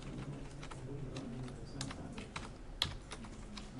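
Close, quiet typing on a computer keyboard as notes are entered, a quick irregular run of key clicks with one sharper tap near the end and no talking.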